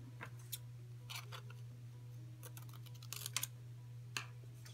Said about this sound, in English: you can easily just snip off the last one with a pair of scissors